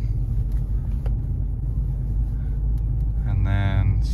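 Car engine rumbling steadily from inside the cabin while downshifting to second and braking, a low continuous drone with a brief change in tone near the end, with people talking over it.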